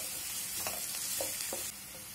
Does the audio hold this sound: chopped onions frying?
yes